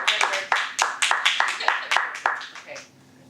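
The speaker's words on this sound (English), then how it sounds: "The applause finally done." A few people at a Toastmasters meeting clap nearby in a room, with crisp individual claps in a steady patter that fades out after about three seconds.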